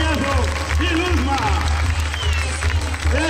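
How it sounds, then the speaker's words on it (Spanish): Crowd applause and cheering in a charreada rodeo arena, a steady wash of clapping under a loud announcer's voice and a low hum throughout. "¡Eso se aplaude!"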